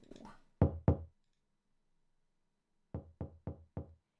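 Pounding on an apartment door in Silent Hill 4: The Room: two loud knocks, a long silent gap, then a faster run of four evenly spaced knocks, close and clear, with nothing else heard.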